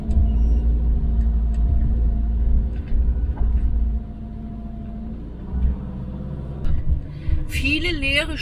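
A car rolls around a village square with a low engine rumble and road noise that swells and eases, with a high whine near the end.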